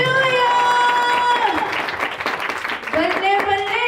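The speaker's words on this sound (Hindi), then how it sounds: "बोलो ताली बजाए जोर से" Church congregation clapping along loudly in a worship service, dense rhythmic claps mixed with singing voices and music filling the room.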